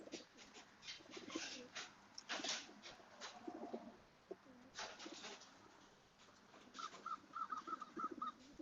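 Pigeons cooing in a loft, several soft throaty coos and murmurs overlapping at close range, rising and falling irregularly with faint higher calls mixed in.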